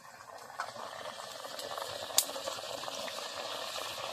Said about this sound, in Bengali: তেল গরম হয়ে গেছে, এবার দিয়ে দেবো জিভে গজাগুলো।